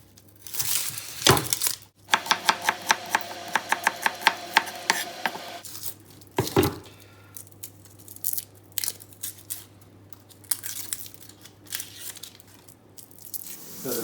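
A knife chops onions for Syrian moussaka on a board, giving a rapid run of crisp, evenly spaced cuts that pauses and then returns as sparser, irregular taps, close and clear with no talk.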